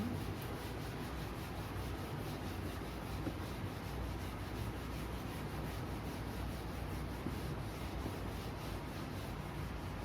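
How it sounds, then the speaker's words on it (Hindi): A teacher writes on a board during a class, producing a faint, continuous scratchy rubbing of chalk or marker that stays low and steady without clear pauses. "देखो वापस लिखती हूँ"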